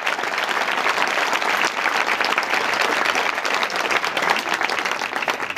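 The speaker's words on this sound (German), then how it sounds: "Michael Bücker, dein Applaus" Sustained, dense applause from a Science Slam audience for presenter Michael Bücker, many hands clapping at once with an even, full roar from start to finish.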